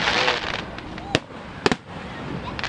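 Fireworks at a Fourth of July show at Bethpage Ballpark, with loud sharp bangs cracking over a dense, roaring crowd and crackle, a few distinct booms standing out.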